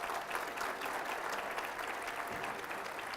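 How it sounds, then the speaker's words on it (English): Audience applause at a 2015 State of the City address, following a men's choir's performance; dense, steady clapping from a large seated crowd, moderately distant and continuous through the short stretch. "Another big round of applause,"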